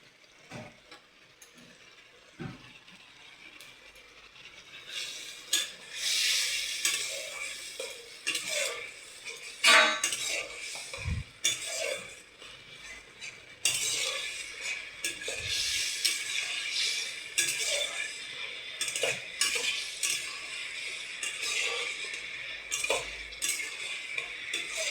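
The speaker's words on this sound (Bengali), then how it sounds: "দিয়ে এবার মশলাটাকে ভালো করে কষিয়ে নেব।" Ginger-cumin spice paste being stirred and fried in a pan for paneer masala curry: scraping clinks of a utensil against the metal pan with a soft sizzle, steady and close, no talking.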